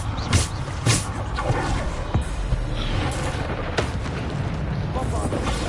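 Bombarda explosion spells from the Hogwarts Legacy video game go off in several loud, booming bursts over a steady rumbling game soundscape, with sharp impacts recurring every second or so.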